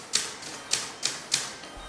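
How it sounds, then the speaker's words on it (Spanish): Typewriter keys strike one at a time as a Colombian artist draws pictures with the machine, five sharp, clear clacks at an uneven pace, close and alone with no voices. "Cada tecla de su máquina de escribir reemplaza una pincelada"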